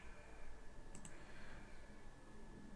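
A pair of soft computer mouse clicks, quick and close together, while working in SolidWorks CAD software, faint against a quiet room hiss.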